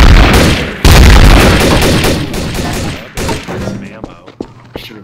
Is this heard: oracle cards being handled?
no